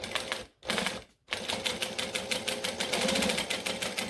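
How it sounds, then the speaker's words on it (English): A sewing machine stitches down across the end of a zipper on a wallet, running in steady rapid bursts with two short pauses near the start, close and continuous. "So now I'm going to stitch down over the end of the zipper"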